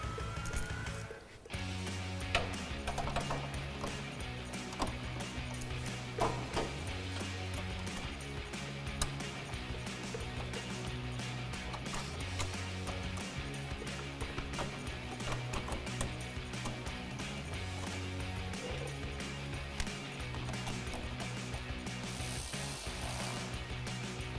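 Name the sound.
ratchet with 10mm socket tightening headlight bolts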